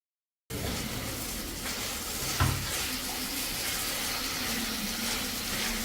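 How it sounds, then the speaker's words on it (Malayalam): Banana pieces sauté in a pan with cardamom powder, making a steady close sizzle after a short silence, with one brief louder scrape of stirring partway through. "ഇനി നന്നായിട്ടൊന്ന് മിക്സ് ചെയ്ത് വഴറ്റിയെടുക്കാം"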